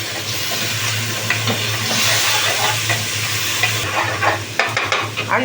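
Tomato paste and vinegar sizzling as they are stirred in a hot pot for a trotter soup, a steady close frying hiss with scraping spoon strokes and small bubbling pops throughout, no voices.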